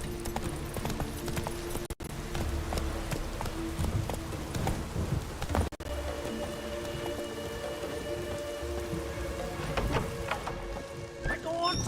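Roach, the horse in The Witcher 3, gallops with a steady, close clip-clop of hooves that runs the whole time beneath a continuous hiss of falling rain.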